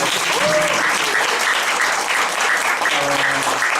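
A lecture audience claps harder after being urged on, a thick, sustained roar of applause with a few voices faintly audible beneath it.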